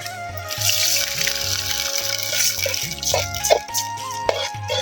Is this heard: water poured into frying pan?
yes